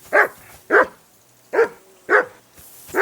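A hound barks in the medieval video game Kingdom Come Deliverance 2, giving four loud, sharp barks at roughly half-second to one-second intervals, close by and alone with no talking, with a faint fifth bark beginning at the end.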